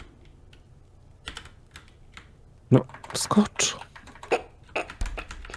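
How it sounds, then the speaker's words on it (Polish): Computer keyboard typing in bursts of quick clicks during a Tomb Raider custom-level gaming session, heard close and fairly loud, with a short spoken word mixed in. "Teraz już nawet ja słyszę twoją klawiaturę"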